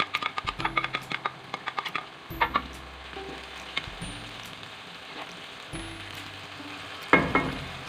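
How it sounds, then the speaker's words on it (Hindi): Beef mince, 800 grams, frying in a pan for keema karahi, giving a soft sizzle broken by clustered clicks and scrapes of stirring, with a few louder utensil knocks; no voices. "कीमा को हम फ्राई करेंगे"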